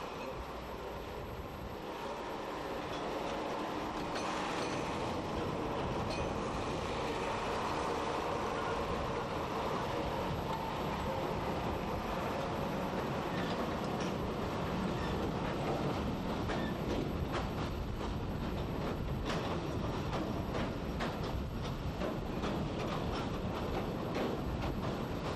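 Peat railway train running in Ireland produces a steady, faint rolling rumble with light clicking of wheels on track, starting quietly and then holding an even level for the whole stretch, with no talk.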